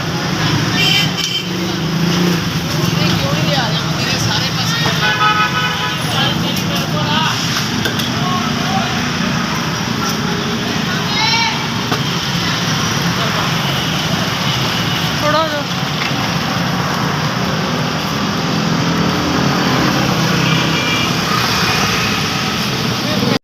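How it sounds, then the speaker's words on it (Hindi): Dense road traffic fills a busy street at iftar time, a loud constant roar of engines with scattered horns and rickshaw buzz, people talking over it. "बहुत ट्रैफिक है क्योंकि इफ्तारी का टाइम है ना,"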